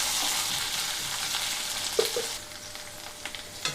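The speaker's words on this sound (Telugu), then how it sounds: "2-3 నిమిషాలు లో ఫ్లేమ్లో ఉంచి వేయించుకుంటున్నాను." Okra pieces fry in hot oil over a flame, a steady broadband sizzle with a few brief clinks of stirring near the middle, close and fairly loud throughout.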